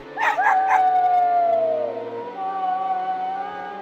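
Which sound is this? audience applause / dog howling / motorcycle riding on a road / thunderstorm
dog howling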